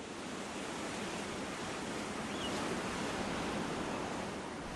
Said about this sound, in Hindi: ये चट्टानों के सिरों पर मौजूद रहते हैं जहां लहरें आकर टकराती हैं।